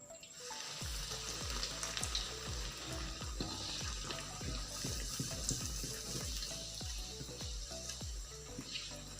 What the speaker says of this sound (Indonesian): Minyaknya sudah kita panaskan. Ini kita goreng.